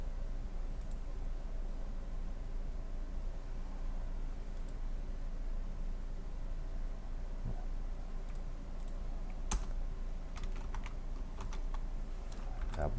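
Steady, close typing on a computer keyboard while coding a React.js app, a continuous run of light key clicks with occasional sharper taps over faint room hiss.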